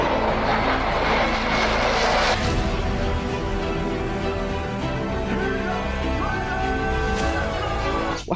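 A toy fighter jet plays a loud, steady airplane engine roar with a broadband whoosh that sweeps down early on, then a sustained droning tone that continues to the end.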